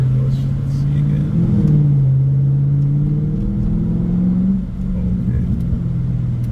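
Mercedes CL63 AMG with the M156 V8 running during a drive, a steady low engine drone with a shifting harmonic pitch and uneven moments that suggest misfiring, loud and close, with brief faint talk.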